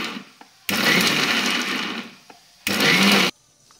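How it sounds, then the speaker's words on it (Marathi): A mixer grinder coarsely grinds peanuts, garlic and coconut in two loud bursts, a long run of about two seconds and then a shorter one, with quiet pauses between them. "आता हे जाडसर आपण मिक्सरमधून वाटून घेऊ।"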